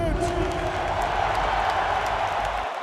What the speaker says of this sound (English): Laker fans, give yourself a round of applause.